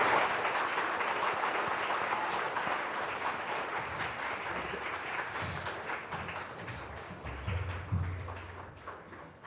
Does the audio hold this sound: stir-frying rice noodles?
no